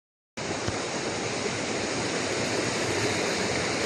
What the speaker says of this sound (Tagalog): Nakita na namin yung hinahanap namin na falls na pangalawa.